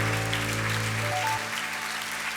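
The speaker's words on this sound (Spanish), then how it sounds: "Denle ese aplauso al Señor." Church congregation applauding during a Spanish-language sermon, a full, steady wash of clapping with sustained keyboard chords ringing underneath that cut off partway through while the clapping carries on.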